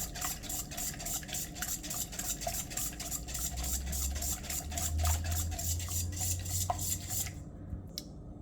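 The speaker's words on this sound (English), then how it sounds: "Whisk and whisk until you are satisfied that everything" A whisk stirs steadily through a liquid mixture in a bowl for a Jamaican Easter bun, making a continuous close scraping, swishing sound with light rhythmic taps against the bowl that stops abruptly near the end.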